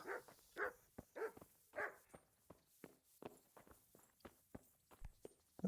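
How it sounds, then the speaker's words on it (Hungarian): A dog in the video game Kingdom Come: Deliverance barks four times in quick succession, fairly close, alongside a steady run of footsteps that continues after the barking stops. "Kutya."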